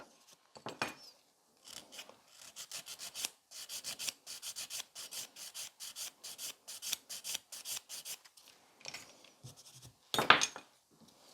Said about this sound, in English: I have to file it more. So I'm filing below that lifting.